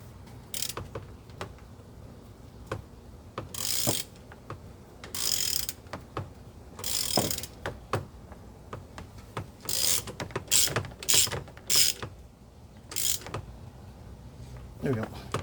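A ratchet tightening a bolt on a 2011 Toyota Camry engine, with repeated bursts of sharp close pawl clicking separated by short pauses, and some clanks between strokes.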